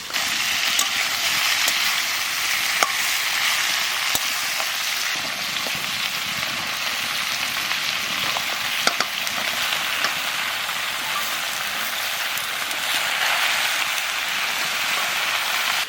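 Taro greens fry with a hilsa fish head in a pan, a steady close sizzle with scattered pops and crackles throughout.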